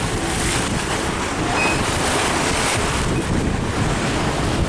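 Ocean waves surge and wash around a sailing boat at sea in calmer conditions, a steady loud broadband rush with heavy wind noise buffeting the microphone throughout.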